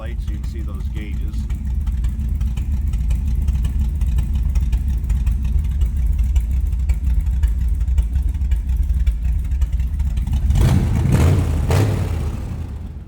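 A 1936 Ford Model 68 Deluxe street rod with a 4.6 engine and a mild cam running close by, a steady lumpy idle that swells into a louder rev near the end while someone talks over it.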